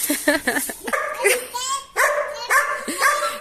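A dog whines and yips in high, short bursts up close, mixed with a person's voice nearby.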